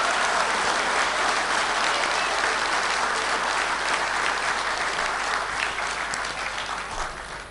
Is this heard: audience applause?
yes